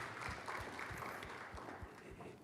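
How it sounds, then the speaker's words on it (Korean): Church congregation applauding during a Sunday worship service, a steady wash of clapping held at an even level throughout, with individual claps standing out in the low end. "하나님께 영광의 박수 올려드리겠습니다."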